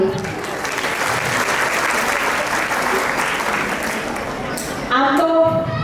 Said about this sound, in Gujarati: આ નારી શક્તિને આપણે તાળીઓથી વધાવીએ.